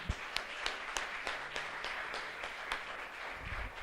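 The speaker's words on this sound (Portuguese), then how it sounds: "Vamos dar mais uma salva de palmas ao Senhor Jesus." Church congregation giving a round of applause, a soft, steady patter of many hands clapping at a distance, fairly faint throughout with no talking over it.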